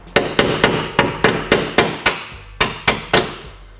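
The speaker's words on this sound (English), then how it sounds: "Maybe get a small little tap hammer." Small tap hammer striking metal hardware while a Subaru STI rear wing is fitted, about eleven sharp, close taps in a fairly even rhythm with a brief pause midway.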